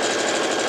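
A sewing machine stitches a backstitch on a fabric cover for a Kallax storage box, a brief steady motor whir with a fast rhythmic needle chatter, close and loud.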